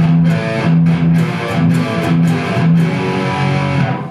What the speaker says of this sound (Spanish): Si se dan cuenta, esta mano de acá salta de vez en cuando para liberar el sonido del muting.